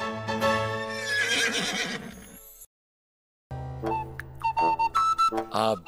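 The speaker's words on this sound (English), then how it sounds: "Ah, a horse." A horse whinnies loudly with a long, shaky neigh, then falls silent briefly before a second series of high, fluttering neighs and snorts close by.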